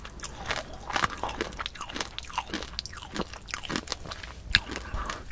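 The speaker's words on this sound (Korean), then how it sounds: "지금 아침으로 팝콘을 먹고 있다고요." Crunchy caramel popcorn chewed close to the microphone, with dense, irregular crisp crunches and bites continuing steadily, alone with no talk.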